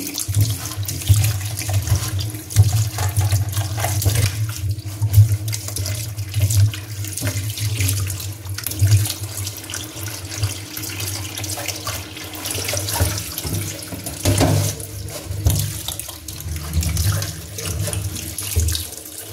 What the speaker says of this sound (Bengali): এখন আলুগুলা ধুয়ে নিচ্ছি।